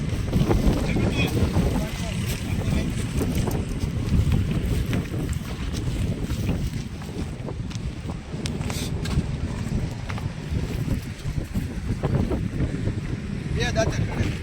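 Strong wind blows steadily outdoors at a rural buffalo sale, roaring into the microphone throughout with a constant low rumble, while people talk underneath.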